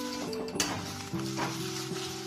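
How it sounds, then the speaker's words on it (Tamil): Red chillies dry-roasting in a pan for sambar powder, with a soft sizzle and the occasional scrape of stirring, close and steady. "வத்தலை வறுத்துறோம்."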